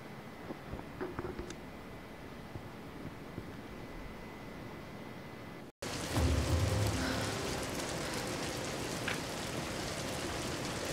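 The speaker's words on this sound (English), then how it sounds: "We're getting closer to the storm." Rain and thunderstorm in the video game Tomb Raider (2013), steady rainfall pattering on surfaces that swells louder after a brief cut, with a low rumble of distant thunder.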